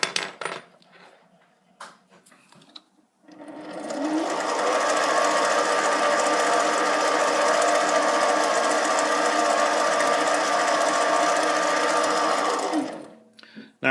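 A 7x16 mini lathe makes a bevel cut, starting after a few light handling clicks and then running as a steady, loud motor whine with a faint cutting hiss for about ten seconds before it winds down.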